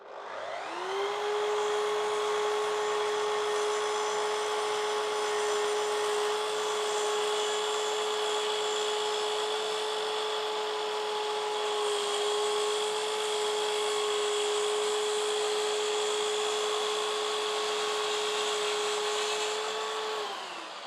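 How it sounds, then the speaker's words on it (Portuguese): A power saw cuts slowly through a wooden stair step, a loud steady whine holding one pitch for about twenty seconds with only slight dips, no voices. "vamos fazer um corte muito devagar, para a máquina trabalhar sem ser forçada e assim não danificar o acabamento"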